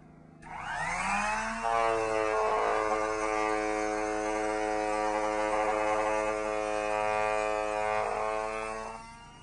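Makita cordless concrete vibrator running on a concrete countertop form, a loud steady motor whine that revs up at the start, holds for several seconds and fades at the end, close with no talk.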